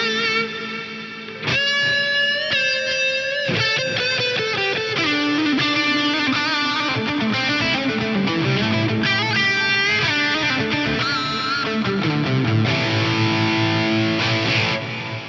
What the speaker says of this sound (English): you can use this essentially as an echo, albeit one that kind of really nicely smears into a reverb